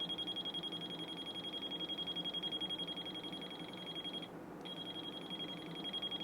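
A voltage detector being scanned along a Light Keeper Pro light string gives a steady, high, rapidly pulsing electronic beep. The beep breaks off briefly partway through, then resumes, with no talking.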